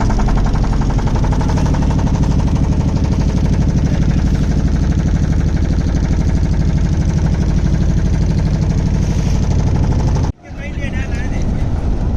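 A shared motorboat on the river at Varanasi runs with a loud, steady engine drone for most of the stretch, then cuts off abruptly near the end, leaving a brief quieter tail. Voices are faintly audible beneath the engine.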